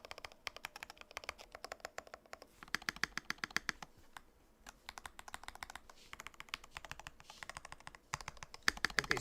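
Rapid typing on a freshly built Monokei Standard mechanical keyboard with double-shot PBT keycaps, close clacky keystrokes in quick uneven bursts, pausing briefly midway before resuming.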